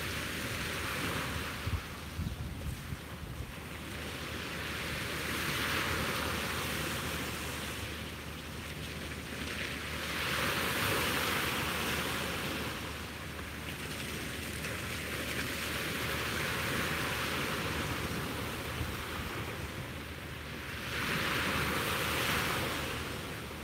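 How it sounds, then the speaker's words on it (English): Ocean waves rolling onto a beach at sunrise: broad washes of surf swell and recede in a slow repeating rhythm, with steady wind noise on the microphone underneath and no voices. "soak in the sounds of these waves"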